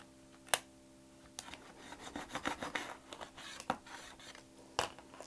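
Scissors snipping through fabric for a sewing gift bag, a quiet close series of irregular crisp cuts and rustles, with a couple of sharper isolated snips.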